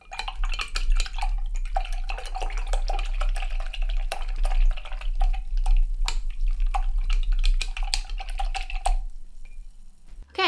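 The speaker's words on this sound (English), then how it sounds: "I'm gonna rinse off my brush" An acrylic paintbrush swishes and taps against the walls of a water container, producing a quick run of close clinks and splashy rattles before a brief pause near the end.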